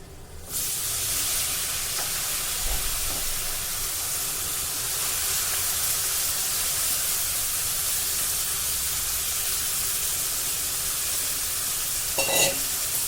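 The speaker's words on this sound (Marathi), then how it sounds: "वांगी आपल्याला तेलामध्ये मिक्स करून द्यायची आहे फोडणी व्यवस्थित वांग्याला लागेल अशी मिक्स करून घ्यायची आहे" Eggplant slices fry in hot oil for an onion- and garlic-free Agri-style vegetable dish, with a loud, steady sizzle throughout and a brief utensil scrape near the end as they are stirred.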